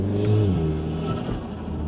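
A VW Golf R Mk7.5 in race mode with its exhaust valves open accelerates on a small side road. The engine gives a loud, sustained, throaty drone that climbs and then settles, heard alone with no talk.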